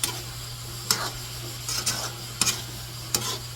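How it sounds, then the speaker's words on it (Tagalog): Ground beef and hotdog sauté with onion and garlic in a pan for spaghetti, a steady low sizzle under a constant hum, broken by four or five sharp scraping stirs of a utensil, close up. "ginigisa na natin guys sa sibuyas, bawang"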